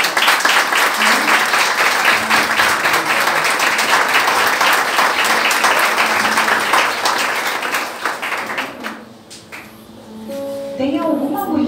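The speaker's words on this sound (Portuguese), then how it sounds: "Eu queria que vocês dessem uma salva de palmas ao Senhor." A church congregation at a women's worship service gives a long, loud round of applause that fills the room, then thins out near the end as scattered voices and stray claps take over.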